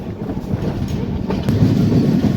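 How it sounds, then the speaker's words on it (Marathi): The 10104 Mandovi Express on the Konkan Railway pulls out of Madgaon station in monsoon season, its steady, loud rolling rumble of wheels and carriages filling the whole stretch without pause. "सध्या तर आपली ट्रेन मडगाव रेल्वे स्टेशनवरून निघालेली आहे."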